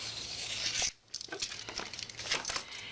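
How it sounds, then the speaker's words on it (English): A scrapbook page is trimmed at the end, with a papery crinkling rasp, a brief pause, then a series of short close snips and rustles. "So I think I'm going to go ahead and cut it."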